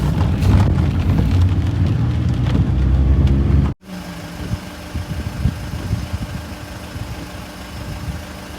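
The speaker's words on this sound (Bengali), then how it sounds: "তো বৃষ্টির দিনে গ্রামের রাস্তা দিয়ে ড্রাইভ করতে ভালোই লাগে।" Rain patters steadily over a car's engine hum while driving on a village road. The wash of sound cuts out abruptly partway through, then returns quieter and thinner, with no one speaking.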